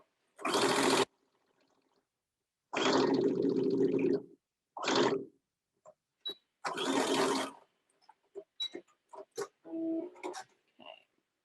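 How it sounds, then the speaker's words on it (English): A home sewing machine stitching down seam allowances on a pair of pants, running in several separate bursts of steady whirring, close and clear, with small clicks and handling sounds between the runs. "on top of those seam allowances, I'm going to stitch them down"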